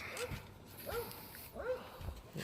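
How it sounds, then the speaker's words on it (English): A dog barks outdoors near a 1988 Hurricane deck boat being winterized: three short, bright yelps about half a second apart, moderately loud over faint background noise. "My dog Joe."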